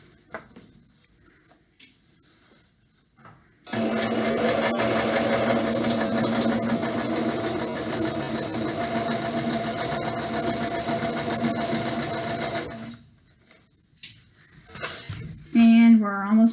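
Sewing machine stitching fabric for a pillowcase, a steady close whirring drone with a faint rapid needle rhythm running about nine seconds before stopping, with quiet handling noises and a short voice at the end.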